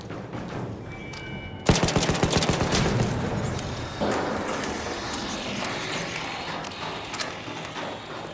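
A burst of rapid gunfire in ARC Raiders as a hostile machine is shot down, with a sharp onset and dense repeated shots, followed by a second impact and mechanical clatter.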